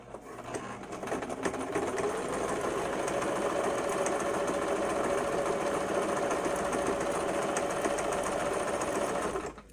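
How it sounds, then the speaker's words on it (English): A sewing machine stitches the side of a fabric face mask in one continuous, steady whirring run that stays close and even with no talking. "I'm going to go ahead and sew down"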